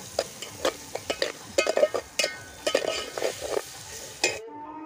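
Tomatoes and green chillies being stirred in a cooking pot for khichdi, with quick scraping and tapping utensil strokes over a soft sizzle that stops abruptly at the end, no talking.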